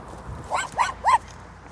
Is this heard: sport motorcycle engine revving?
no